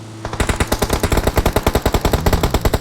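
Rapid automatic gunfire in PUBG, a loud, close, continuous burst of evenly spaced shots rattling off quickly for nearly three seconds.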